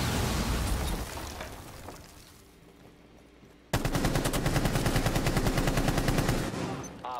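Sprayed automatic gunfire in the Rainbow Six Siege video game, a loud dense rapid burst that stops, leaves a quieter stretch, then resumes as a long sustained close spray.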